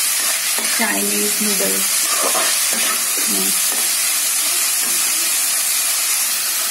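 Vegetables for chow mein stir-fry on high flame, a loud, dense, close sizzle holding steady throughout while someone speaks briefly over the first half.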